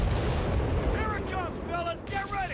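Deep booms of mortar fire rumble through a Company of Heroes 3 battle, with whistling shells overhead and a commentator talking over the action.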